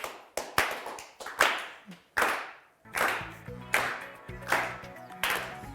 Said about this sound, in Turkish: Son soruda üzgün alkışı da aldım.